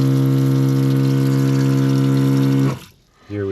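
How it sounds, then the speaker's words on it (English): Inside a converted 2006 Honda Odyssey camper van, a faucet runs with its electric water pump droning in a loud steady hum, which then cuts off abruptly and briefly restarts. "Let me go ahead and turn on the water just so you can see it work."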